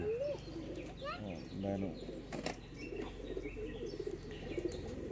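Pigeons at a home loft calling softly with low coos and chirps, a brief flutter of wings, while people talk nearby throughout.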